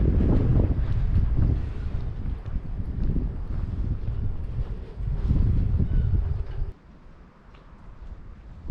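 Strong gusty wind of about 15 to 20 knots while sailing buffets the microphone in heavy low rumbling surges, with a quieter lull near the end.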